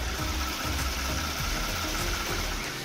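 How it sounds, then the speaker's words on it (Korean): A Kia K9 gasoline engine idles steadily nearby with the hood open, a smooth, even hum with a faint rhythmic ticking and no other sounds. "영상으로 엔진 소음 한번 담아보도록 하겠습니다"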